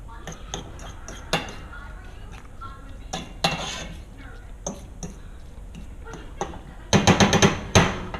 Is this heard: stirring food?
yes